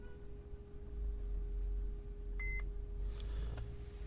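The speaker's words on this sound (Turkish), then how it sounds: "bip sesini duyana kadar basılı tutacağız" A short electronic beep with a few stacked tones rings out once from a Mercedes Viano/Vito dashboard over a steady low engine-like hum, followed by faint clicks.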